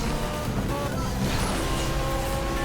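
McLaren GT sports car engine in the racing game Asphalt 8, a steady, fairly loud, full-bodied drone that holds even throughout, with no gear shifts or pauses.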